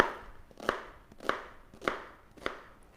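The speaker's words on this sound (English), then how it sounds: "This is why having that sharp knife when you're doing things like onion really makes it a much more pleasant experience." A sharp knife finely dices onion on a board. About five crisp, evenly spaced chops sound up close, with no talking.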